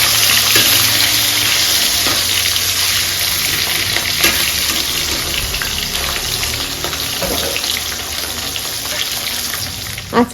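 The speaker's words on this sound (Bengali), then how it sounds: "তেলের মধ্যে 1/2 টমেটো দিলাম, একটা গোটা পেঁয়াজের একটু কম হচ্ছে পেঁয়াজ দিয়েছি" Tomato, onion, green chilli and garlic fry in hot oil in a wok, a loud continuous close sizzle with occasional stirring clatter and no talking.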